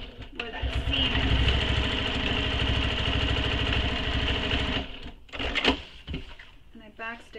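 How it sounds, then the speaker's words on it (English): A sewing machine runs a steady, rapid stitching burst along a backpack seam for several seconds, then stops, followed by a few handling clicks and rustles, with a voice talking briefly near the end. "And I backstitched over it to make sure."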